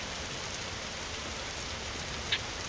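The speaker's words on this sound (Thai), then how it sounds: "มีฝนตกแล้วนะ" Rain falls in the survival video game Nights in the Forest, a steady, even hiss of rain on surfaces, moderately soft and unbroken, with no voices.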